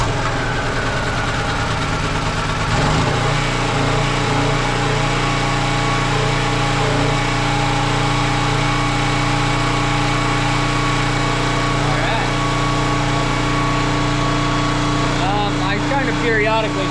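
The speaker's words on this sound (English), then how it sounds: "I want to make sure that the generator is ready to go" A portable generator engine kept for storm preparation is heard in a steady running drone with a low, continuous hum. The engine stays loud throughout, and a brief rattle comes near the end.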